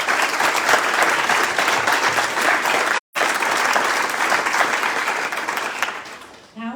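Audience at an awards night giving a sustained round of applause, dense and loud, briefly cut off partway, then fading toward the end as a voice begins.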